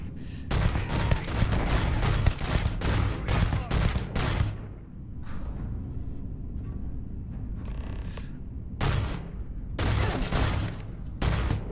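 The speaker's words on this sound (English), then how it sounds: "Somebody's still shooting at me from here." Enemy gunfire in the sci-fi video game Starfield, rapid bursts of loud shots cracking in clusters, pausing briefly, then resuming near the end.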